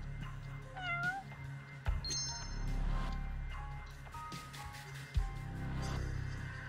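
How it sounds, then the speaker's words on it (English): Cat meowing inside the video game Judgement, several short rising meows in the first half over a steady droning game soundscape, with faint clinks and a couple of soft thuds. "Oh, look, a cat."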